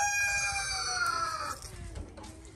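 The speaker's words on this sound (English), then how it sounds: "Now all the other hens are going to want to come out too." A rooster crows loudly and close, a long drawn-out call lasting over a second, then hens cluck softly in the background as it fades.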